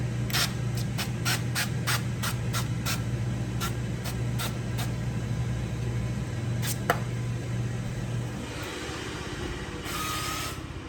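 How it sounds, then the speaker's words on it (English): Short bursts of avocado oil cooking spray hiss in quick succession onto crab rangoons and an air fryer rack over a steady low hum, followed by a longer spraying hiss near the end. "we're going to spray the outside with some avocado oil"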